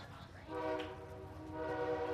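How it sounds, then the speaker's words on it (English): A freight train passes outside a book festival venue, its horn giving a steady, layered harmonic blare that swells after a quiet start and holds, moderately loud and somewhat distant. "Freight train!"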